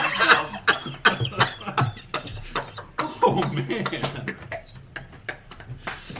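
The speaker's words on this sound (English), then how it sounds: "I coughed something up." A person coughs in a rough, repeated burst of harsh barks at close range, amid podcast-style conversation, with voices and laughter mixed in around the coughs.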